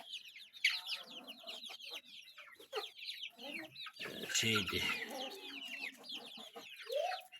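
A dense flock of chickens, more roosters than hens, clucks and squawks busily close by with rooster calls mixed in, and brief speech partway through.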